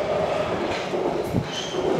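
A metro train in Budapest rumbles and hums close by, with faint wheel and rail noise as it departs the station.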